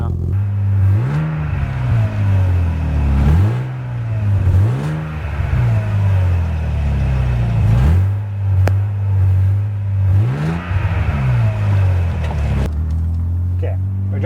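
A BMW Z3 M sports car engine, warmed up, revs repeatedly in rhythmic swells, about six climbs and drops in pitch over a deep idle, loud and close, with someone speaking briefly.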